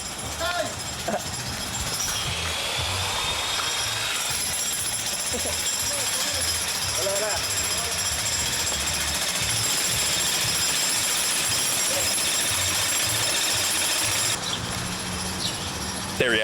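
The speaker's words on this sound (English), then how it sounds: "where they're jackhammering in the basement" A jackhammer pounds in a basement in a rapid, continuous rattle, muffled as if from below, while people talk over it throughout.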